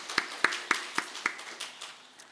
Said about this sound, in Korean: 그 수고해주신 모든 분들께 우리 감사의 박수 한번 하겠습니다